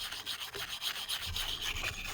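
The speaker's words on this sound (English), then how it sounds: "Scrub it with the wire brush to get any of the kind of big debris" A wire brush scrubs an Aqua Hot heater part, giving a close, quiet, continuous scratchy rubbing with rapid back-and-forth strokes and no voices.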